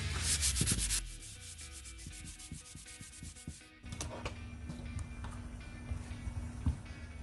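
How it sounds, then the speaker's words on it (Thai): Hand sanding of a wooden wall panel before a lacquer finish, a steady dry rubbing with rhythmic back-and-forth strokes, close and continuous with no talking. "เพื่อนๆก็ขัดให้ทั่วๆเลยนะครับ ตรงไหนที่ว่าเราไม่ได้โป้เราก็ขัดไปด้วยนะครับให้เขาเกิดความลื่นนะครับ"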